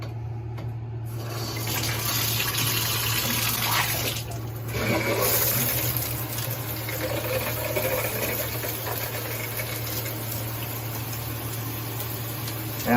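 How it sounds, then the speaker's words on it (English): Water runs steadily from a Moen shower head with its flow restrictor in place, a continuous loud hiss with a constant low hum beneath it and a brief shift in the spray partway through. "So I'm going to turn on the water here."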